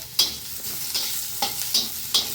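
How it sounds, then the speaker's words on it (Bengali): Onions briefly frying in a pan for a jute leaf mash, a soft steady sizzle punctuated by about five sharp scraping strokes of a spatula at a regular pace. "বেশি ভাজবো না পেঁয়াজ"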